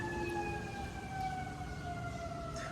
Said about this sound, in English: There's like sirens all the fucking time now.